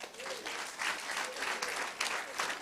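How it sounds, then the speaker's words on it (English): Steady applause from an audience at a sickle cell disorder self-care talk, dense clapping throughout with slight swells, fairly close and continuous. "Let's clap for her."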